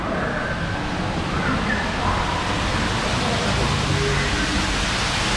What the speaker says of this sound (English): Oh, there's the waterfall.